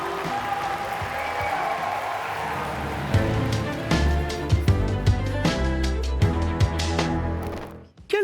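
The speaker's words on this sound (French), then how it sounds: "J'aimerais un tonnerre d'applaudissements pour Jilcy et Christophe" An audience at a live show claps loudly for the performers in a dense, sustained wash of applause with a few louder bursts, and the clapping dies away near the end.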